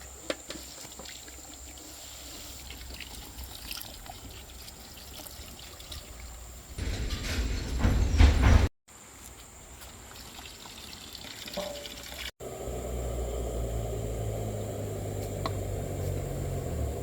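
Clean tap water poured into a pan of vanjaram fish curry with Rani masala, a soft steady trickle broken by louder splashing bursts and a fuller pour near the end.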